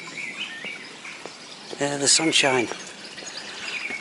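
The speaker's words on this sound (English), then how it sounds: "Do I hear a blackbird come out its spring song?" A blackbird sings an early spring song along a lane in Harlech, Wales, in late January, short bright phrases and chirps a little way off, with a brief spoken comment in the middle.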